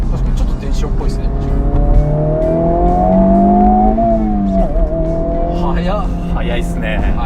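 A Honda Civic Type R FL5 with a VTEC engine revs hard as its exhaust valve opens, the engine tone sweeping upward and dropping, loud and close with steady road and tyre roar beneath.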